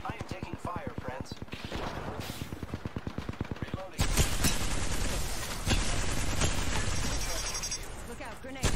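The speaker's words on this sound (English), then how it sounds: "I am taking fire, friends." Gunfire in the Apex Legends video game: a long steady stream of rapid automatic shots for about four seconds, then a louder, denser barrage of overlapping fire, with a voice talking underneath.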